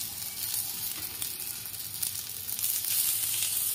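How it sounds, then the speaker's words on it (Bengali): Eggplant slices fry in oil over a clay stove, giving a continuous close sizzle with soft crackles that swells slightly toward the end. "এ দেখো সুন্দরভাবে ভাজা হচ্ছে দেখছো, আর তেলও রয়েছে"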